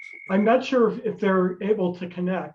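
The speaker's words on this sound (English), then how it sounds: "And so you have the frogs in the background." Frogs croak in the background at night on the patio of Lowell Observatory during a lunar eclipse event, partly masked by a person talking in the foreground.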